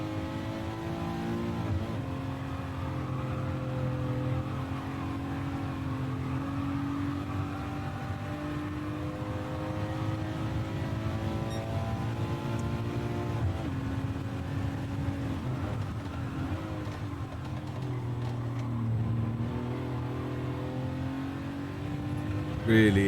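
An engine-swapped Beetle bus in Gran Turismo 7 lapping a track at dusk, with a steady droning engine and shifting revs held throughout, loud and continuous.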